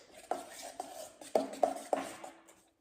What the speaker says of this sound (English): now we mix.